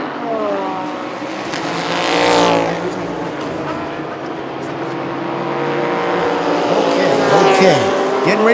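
Race cars roar around the circuit during a 2020 TSS race, engines droning loudly and continuously with rising and falling pitch as cars pass, brief tire squeal mixed in.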